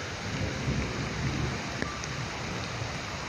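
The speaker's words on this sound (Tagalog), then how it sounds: "Sobrang lakas ng ulan." Heavy rain pours down in a dense, steady roar, loud and close, with one brief sharp tick partway through and no voices.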